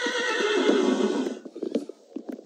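A Minecraft horse gives a loud, drawn-out whinny up close. The call breaks into shorter snorting bursts and a few light clip-clop taps.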